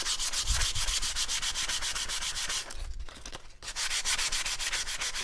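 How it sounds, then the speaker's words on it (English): Sandpaper rubs back and forth over painted wood in a fast, steady rhythm of gritty strokes, close and loud, with one short pause midway. "as your sandpaper gets a little gummed up by the paint, you can switch to a different area of the sandpaper"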